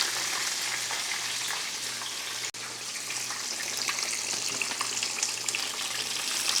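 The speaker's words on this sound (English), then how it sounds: "frying them 1 at a time isn't ideal" Food fries in a pan with an even, crackling sizzle that stays close and steady throughout, interrupted by one brief dropout, with no talking over it.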